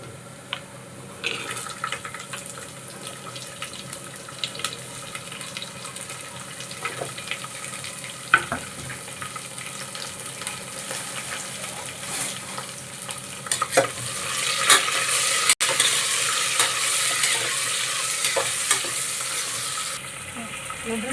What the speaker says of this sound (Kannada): ಇವಾಗ ಈರುಳ್ಳಿ ಹಾಕೋ ತರಕಾರಿ ಹಾಕೋತೀವಿ